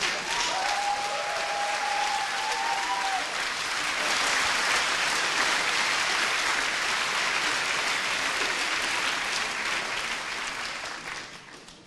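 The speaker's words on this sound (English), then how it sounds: "it's wonderful to be at a physics event where there is applause like there is at a football game" Sustained, full audience applause fills a physics seminar hall at CERN on the Higgs boson search, dense and even clapping that swells in the middle and tapers near the end.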